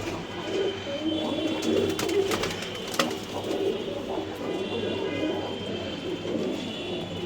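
A female pigeon coos like a male in a loft of racing pigeons, soft repeated low coos under steady ambient noise and occasional rustling.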